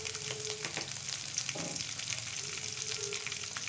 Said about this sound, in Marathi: हे आपण तेलात परतून घ्यायची